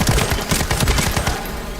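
Rapid automatic gunfire from the video game The First Descendant, a loud, dense fusillade of booming shots in quick succession that tails off slightly toward the end.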